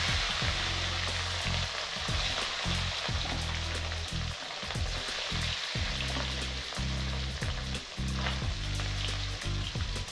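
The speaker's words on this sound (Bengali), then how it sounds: "মাছটা আমি ভেজে নেব।" Rohu fish frying in hot oil in a pan. A loud, dense crackling sizzle continues for the full ten seconds, with rapid popping and spattering throughout.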